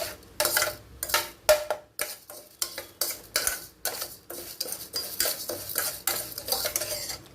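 Ingredients for bitter gourd powder dry-roasted in a pan, a spoon scraping and clinking against the metal in quick irregular strokes, close and fairly loud without speech.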